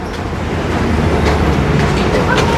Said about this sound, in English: I give you some inside Singapore MRT station.